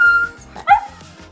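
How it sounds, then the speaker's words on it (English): A dog gives a short yip-like bark with a faint whimpering tone, close and clear against a quiet background, in a single brief burst. "I hear a doggy."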